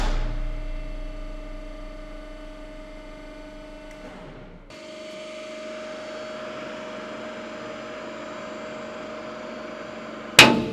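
A hydraulic press slowly crushes an object, a steady mechanical hum and drone of the pump running under load, ending with a sudden sharp crack or snap as the piece gives way.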